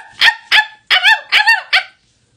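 A person's voice imitates a dog, giving five loud, close barks in quick succession with a short pause after the second, then silence.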